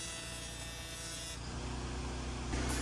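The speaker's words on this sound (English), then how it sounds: "start tack welding across the bottom in the same manner" TIG tack welding on an aluminum truck bed ramp, heard as a steady close electric buzz with a high whine, holding evenly for a few seconds with a slight shift partway through.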